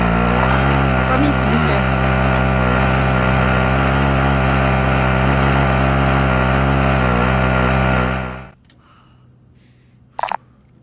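A vehicle engine drones loud and steady in Call of Duty Warzone while players talk over it, then cuts off abruptly near the end, leaving near silence with a single brief click.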